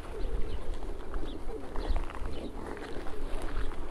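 Pigeons coo repeatedly outdoors in Berdyansk, soft low calls overlapping a steady background murmur, fairly close and continuous.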